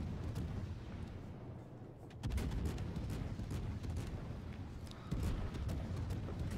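Naval guns on the Minotaur cruiser in World of Warships pound away with a fast reload, a dense continuous roar of booming salvos with sharper surges partway through.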